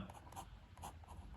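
A Pilot Frixion LX ballpoint pen writes on paper, giving a close, faint scratching with a slightly rough stroke rhythm, in short repeated bursts.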